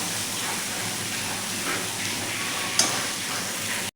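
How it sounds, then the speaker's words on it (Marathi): Cabbage sautés over a high gas flame, a continuous dense hiss and sizzle close up with one brief clink partway through, cutting off abruptly at the end. "फास्ट गॅसवरती आपण एक मिनिटभर फक्त याला परतून घ्यायचा आहे"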